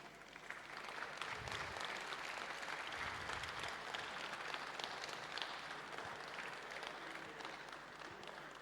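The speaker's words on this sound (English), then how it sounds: "please rise up and give them a round of applause" Sustained applause from an audience rising to a standing ovation at a presidential address for Y.H.C.A.V 2023, a steady dense wash of clapping that fills the hall and keeps an even level throughout.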